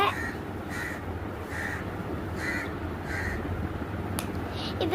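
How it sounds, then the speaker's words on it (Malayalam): Crows caw in a steady series of five or six harsh calls at a moderate distance, over a low background hum, with a brief sharp click near the end. "ഒരു കാക്കശല്യം ഇപ്പൊ കഴിയും"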